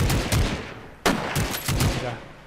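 Gunfire in an Arma 3-style Minecraft mod crackles in several sharp bursts, one loud close shot standing out midway, with a voice talking in between.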